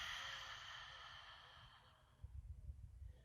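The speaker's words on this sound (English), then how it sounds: "And then open your mouth and exhale." A long, airy exhale through an open mouth during a yoga breathing exercise, a soft breathy rush that fades over a couple of seconds, quiet and close, followed by low rumbling noise.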